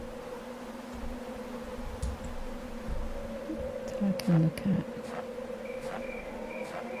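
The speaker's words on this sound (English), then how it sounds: "I hear cicadas." Cicadas buzzing in a steady, droning chorus within the game Darkness Within 2, a continuous insect whine beneath a brief spoken phrase and a few soft footsteps or clicks.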